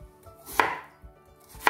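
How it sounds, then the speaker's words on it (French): A kitchen knife slicing zucchini into fries on a cutting board, two sharp chopping thuds about a second apart, close and distinct with a soft rustle between cuts, no talking. "on va juste la trancher, la couper, l'épicer et l'enfourner"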